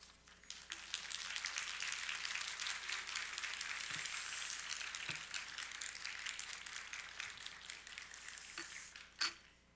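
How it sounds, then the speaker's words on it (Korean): A church congregation applauds to welcome the pastor to the pulpit at a Friday late-night service, a dense, steady patter of many hands clapping that lasts several seconds, then breaks off with a final sharp clap. "나오실 때 큰 박수로 환영하시겠습니다"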